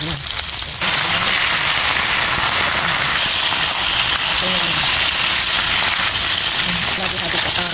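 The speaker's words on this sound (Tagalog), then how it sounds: "Biglang bumulis ba naman lakas ng ulan." Heavy rain pours steadily onto a surface in the Philippines, a dense, continuous hiss that swells suddenly after the first second and stays loud throughout, with faint voices underneath.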